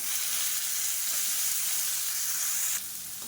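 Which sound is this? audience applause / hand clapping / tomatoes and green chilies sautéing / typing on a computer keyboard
tomatoes and green chilies sautéing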